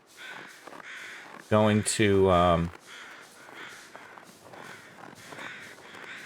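Crows in the video game The Long Dark let out a loud, close burst of cawing for about a second, while someone talks quietly before and after.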